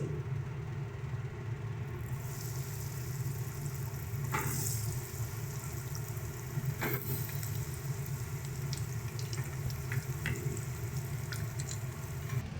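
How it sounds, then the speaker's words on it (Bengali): Homemade vegetable chops deep fry in oil with a constant, moderate bubbling sizzle, broken now and then by brief clinks of a utensil. "সেম প্রসেসে আমরা বাকিগুলোকেও ভেজে নিচ্ছি"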